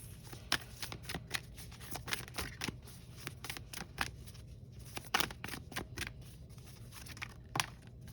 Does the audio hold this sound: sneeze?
no